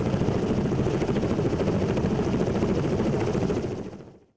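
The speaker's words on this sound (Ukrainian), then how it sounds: "палубний вертоліт К-27" A Ka-27 anti-submarine deck helicopter thunders aboard the frigate Hetman Sahaidachny, loud rotor chopping pulses close by that fade out over the final second.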